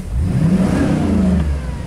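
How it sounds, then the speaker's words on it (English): A GM truck engine is held at full throttle up to fuel cutoff, giving a loud, steady, close roar for about two seconds with no talking. "Accelerate full throttle until fuel cutoff, waiting for full throttle."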